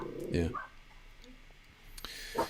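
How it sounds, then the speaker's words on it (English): Indoors, a dog barking at another dog outside gives a couple of short, muffled yips spaced apart, fairly faint amid background clicks and a nearby voice. "hear my dog barking at another dog outside"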